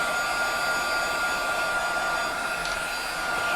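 A hair dryer blows steadily on a wet craft piece for a rustic holiday card, giving a constant close whirring roar with a high whine and no change in pitch throughout.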